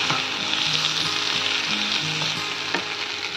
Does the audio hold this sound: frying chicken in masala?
yes